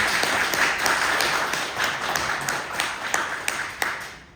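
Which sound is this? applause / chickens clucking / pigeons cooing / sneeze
applause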